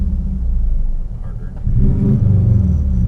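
A Subaru Legacy engine with an aftermarket Walbro 255 fuel pump rumbles low, then surges into a louder, sustained rev as the throttle is stabbed, holding steady near the end.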